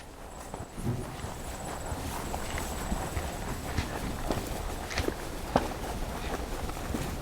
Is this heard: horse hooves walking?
yes